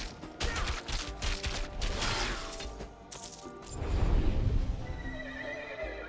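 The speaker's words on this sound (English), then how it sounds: "Not just any talking horse." A horse in the action role-playing game Titan Quest 2 gives a loud, close whinny over the clatter of hooves and a busy game soundscape, with no talk.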